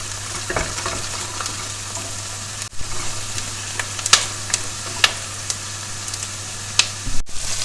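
Oil sizzling and stirred in a pan while frying ingredients for a Turkish chickpea soup with bone-in meat, with a steady frying hiss and sharp scraping clicks of the spoon at irregular intervals, close and alone with no talk.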